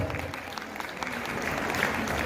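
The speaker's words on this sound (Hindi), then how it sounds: "तालियां अनवरत।" Continuous applause from an audience at a Jain heritage day commemoration event, steady and moderately loud throughout with a faint murmur of voices underneath.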